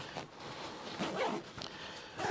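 Front admin pocket zipper on a 5.11 Rush 24 backpack being pulled open, a few short scratchy rasping bursts close to the mic, with faint handling noise around them.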